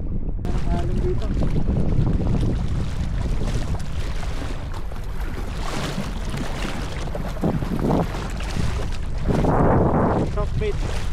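Sea waves slosh around a kayak during a fishing trip off Batangas, mixed with heavy wind buffeting on the microphone while people talk nearby.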